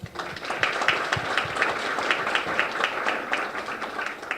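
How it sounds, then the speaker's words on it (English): A forum audience of senior voters in Lynn claps together, dense applause that holds steady for several seconds with no voices over it. "You really should give yourselves a round of applause for that"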